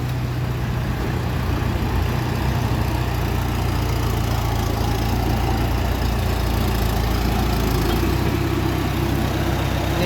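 Farm tractor engine running steadily during land filling beside a house, a loud, continuous low rumble that holds constant throughout with no pauses or voices.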